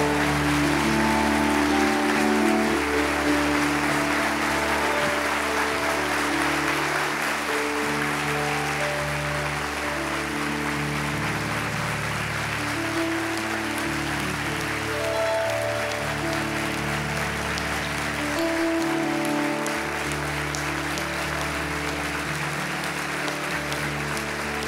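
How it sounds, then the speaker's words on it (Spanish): A church congregation gathered in an arena for a celebration-of-life memorial service applauds. The clapping is a continuous, even wash that lasts the whole time, over a steady tonal background. "Este aplauso de toda la iglesia"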